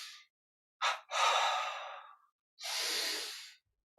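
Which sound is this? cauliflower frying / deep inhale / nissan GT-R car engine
deep inhale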